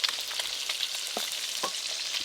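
Fish frying in a pan, a continuous dense sizzle with a few soft crackles and stirring clicks, close and fairly loud, no voices.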